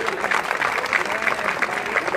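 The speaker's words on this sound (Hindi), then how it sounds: "शिव नारायण यादव जी आइए, सुनिए भाई, जोरदार ताली बजा के सुनिए जी का स्वागत करिए" Applause welcoming a speaker at a political rally in Uttar Pradesh, a dense crowd clapping steadily with a loudspeaker voice and crowd noise mixed in throughout.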